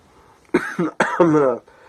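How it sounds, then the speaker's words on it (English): A few harsh coughs from a sick man in quick succession, loud and close. "Sorry for coughing."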